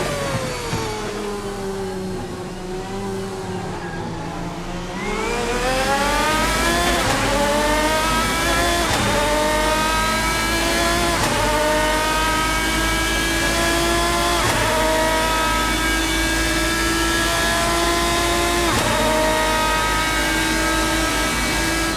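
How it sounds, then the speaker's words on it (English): A race car engine in the video game Assetto Corsa revs repeatedly, climbing through gears with rising pitch and brief shifts, loud and continuous, with no talking over it. "let you hear the glory of this engine"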